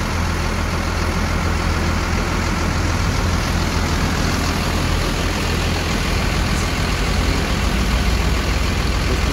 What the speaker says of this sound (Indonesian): Bus Padang melintas di daerah sini ya.